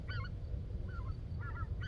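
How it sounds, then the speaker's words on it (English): Goose-like honking calls from waterfowl, taken for ducks, sound at an outdoor shooting range over a low rumbling background, in three short bursts. "Yep, look, ducks."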